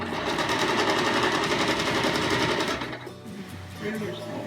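A sewing machine stitches a curved edge on a fabric car seat poncho, a fast, even mechanical whir running loud and close, then slowing and softening near the end.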